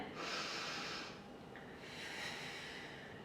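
A slow, audible inhale during a calming qigong breathing exercise, drawn in two long airy breaths close to the microphone, with no talking.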